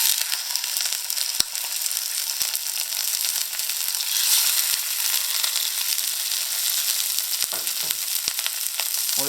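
Salmon fries skin side down in very hot oil in a pan, a steady close bright sizzle that runs unbroken throughout, with a few faint clinks and a brief scrape near the end.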